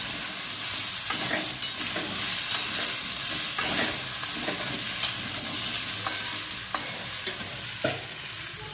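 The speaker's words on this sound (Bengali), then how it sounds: "কুমড়োটা ঠিক ভাজা ভাজা হচ্ছে" Pumpkin fries with a steady sizzle in a pan for several seconds, broken by occasional stirring scrapes and soft clicks of a spatula against metal.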